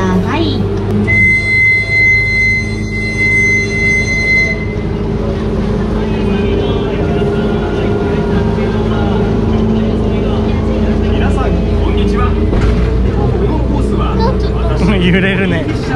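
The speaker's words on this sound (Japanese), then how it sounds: "こちらの船が通り過ぎてから出発となりますので、もう少しだけお待ちください。" A boat glides past on the water beside a Tokyo DisneySea ride, a steady low engine rumble and wash running throughout, with a brief tonal chime early on and voices talking over it.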